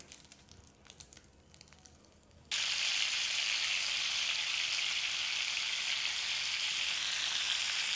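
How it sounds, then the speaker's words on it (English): Salted Greek meatballs dropped into a hot skillet, the quiet kitchen bursting after a couple of seconds into a loud, steady, close sizzle that holds to the end. "Drop them into our hot skillet to sear the flavors in."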